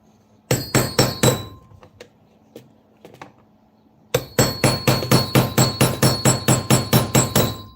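Hammer striking rivets on a WWII M1 helmet liner, sharp metallic blows close to the mic: a few spaced strikes, a pause with light knocks, then a rapid even run of about a dozen hits.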